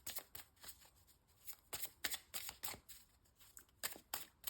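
A tarot card deck being shuffled by hand, giving crisp, riffling bursts of papery flicks in quick irregular clusters, close and fairly quiet with no talking.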